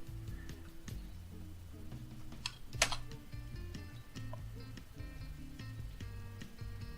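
Fingers type on a computer keyboard while entering Docker commands, producing quiet, irregular clicking keystrokes with one sharper tap midway, close and alone without any talking.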